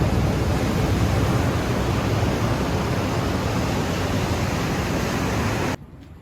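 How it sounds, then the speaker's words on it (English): Surf washing onto Pfeiffer Beach in Big Sur, California, a loud, continuous broadband roar of waves that cuts off abruptly near the end, with no voices. "here we are at the happy place, Pfeiffer Beach, Big Sur, California"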